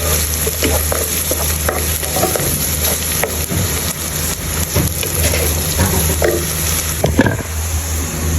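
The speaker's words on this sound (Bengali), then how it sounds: "এখন পেঁয়াজটাকে ভেজে নিব" Chopped onions fry in oil in a pan with a steady, fairly loud sizzle, broken by occasional stirring clicks and scrapes.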